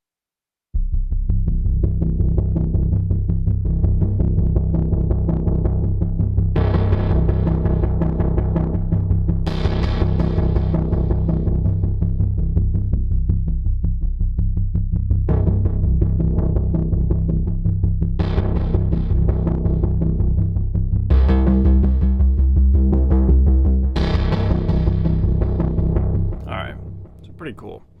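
A synthesizer patch with effects processing plays sustained, droning notes that change pitch every few seconds, loud and continuous, then fades out at the end.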